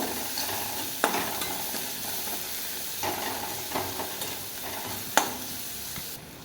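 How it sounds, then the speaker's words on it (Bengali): Onions frying in a pan for a spinach and shrimp curry, a continuous close hissing sizzle with a few sharp spatula knocks and scrapes spaced through it, no speech. "পেঁয়াজটা লাল লাল করে ভেজে নিয়ে তারপরে বাকি উপকরণগুলো দেব।"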